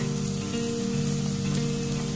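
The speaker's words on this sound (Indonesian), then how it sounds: "Nah, saya akan masukkan bawang merahnya. Lalu kita aduk-aduk sampai bawang merahnya harum." Shallots sizzle steadily in a pan of hot oil, a dense, even frying hiss, close and continuous with no voices.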